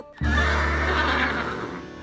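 A horse on a farm lets out one loud, close neigh that starts abruptly and holds for about two seconds, with no other sound.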